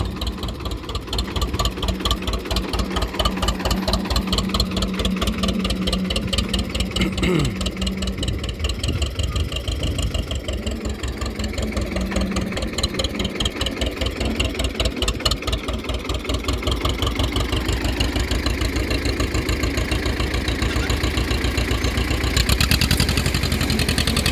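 An old Escort 335 tractor, about 25–30 years old, idles steadily with a fast, even diesel chug that stays loud and close throughout, with no talk over it.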